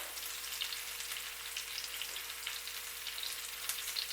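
Onions fry in a pan alongside sirloin steaks, giving a steady, soft crackling sizzle with small pops, heard close and alone at low volume.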